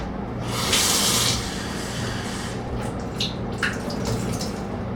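Blueberries rinsed under a running kitchen tap, with a louder burst of splashing water early on followed by a steady, softer stream and a few small splashes, no talking.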